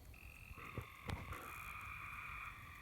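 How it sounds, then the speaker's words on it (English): Tree frogs croak steadily in a garden after rain, a dense layered chorus of overlapping calls near and far, with a few louder nearby croaks breaking through. "Tree frogs are singing to each other."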